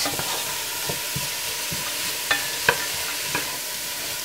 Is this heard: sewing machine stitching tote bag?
no